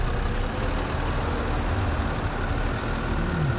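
A Jeep crawling off-road over a rock ledge at Barnwell Mountain, its engine a loud, steady low rumble under strain, with faint creaks and no talking.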